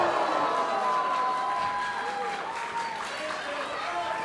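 A wrestling crowd at a Hollywood bout reacts with cheering and applause as a wrestler floats over into the corner for a cover, a moderately distant roar running under commentary voices.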